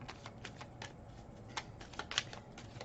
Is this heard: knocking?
no